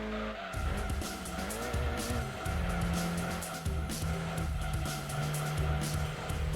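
Race car in Gran Turismo 2 braking hard, its engine droning close and steady while tires squeal and skid through corners in long, loud stretches; no talking.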